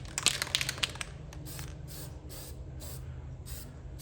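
Spray paint hisses in repeated short bursts onto the steering column of a 1978 Corvette, several close, fairly loud pulses with brief gaps, over a faint low hum.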